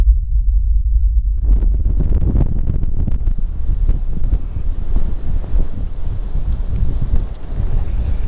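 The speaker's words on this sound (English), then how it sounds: "it was like ridiculously windy, so I'm sorry about that" Heavy wind buffets the microphone on a flounder fishing trip in a loud, continuous roar with low thumping gusts, and water surges faintly underneath.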